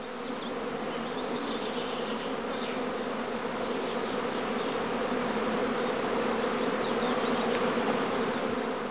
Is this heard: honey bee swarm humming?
yes